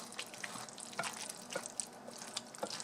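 Cauliflower mac and cheese being stirred in a pan, soft wet squelches and light scraping in irregular bursts, close but quiet, with a faint sizzle beneath.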